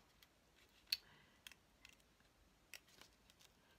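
Scissors snip paper while cutting into a page corner of an altered book, producing a handful of faint, crisp clicks at irregular intervals close by in an otherwise quiet space.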